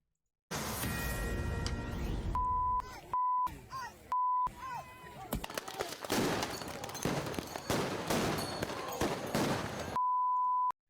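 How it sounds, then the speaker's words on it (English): Flashbang grenade going off in news footage of a street confrontation: several loud bursts and bangs with crowd noise between them, interrupted by steady censor-style beep tones, plus voices in the background. "If you don't know, that is called flashbang"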